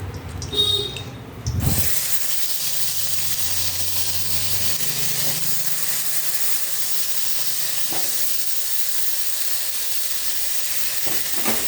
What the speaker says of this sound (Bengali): এই তেলটার মধ্যে সোয়াবিনটা আলুটা দিয়ে দিই।